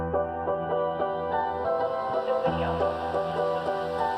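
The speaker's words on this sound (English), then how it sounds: "The sample is also layered with an octave higher version of it that sounds like this." A looped hip hop pop music sample doubled by an octave-higher copy of itself, giving dense, bright sustained chords with a steady, continuous level and no voices over it.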